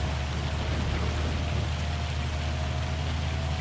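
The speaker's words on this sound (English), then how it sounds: "This hail is like golf ball sized" Golf-ball-sized hail pounding down during a Farming Simulator 25 storm, a dense, steady hiss of impacts with a low rumble beneath, loud and unbroken.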